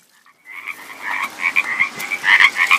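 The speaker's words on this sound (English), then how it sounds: "I once filled up here at night and the loudest frogs were singing" Loud frogs croak in a dense, pulsing chorus at a spring at night, starting after a brief silence and swelling into overlapping calls close by.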